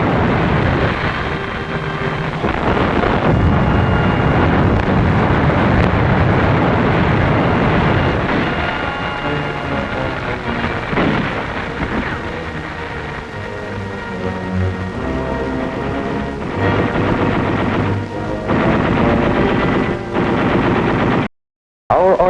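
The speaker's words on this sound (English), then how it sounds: "Artillery delivers heavy fire on the central strong point of the enemy's defense line" Heavy artillery and machine-gun fire during the Battle of Okinawa at Shuri, a loud, sustained archival barrage of rapid bursts and booms over rumbling noise, ending abruptly.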